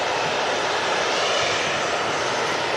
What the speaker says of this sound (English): And this aircraft is in from Istanbul.